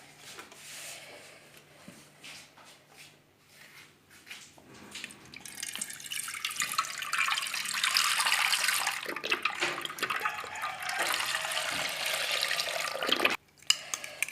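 Milk pours steadily into a cooking pot while a lemon meringue pie custard is started, a soft trickle that swells into a broad, rushing splash and runs for several seconds before stopping abruptly.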